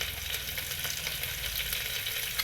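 Garlic, coriander and tomato being stirred and fried in a pan, a dense steady sizzle with faint stirring close by, no voices.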